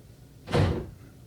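A single short whoosh and thud of a door being opened at home, fairly close and moderately loud, set against a quiet room with no talking during the sound.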